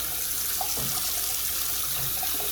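Discolored, sediment-laden water drained from a water heater and running steadily out of a faucet, a close continuous splashing flow with small gurgles, heard alone without talk.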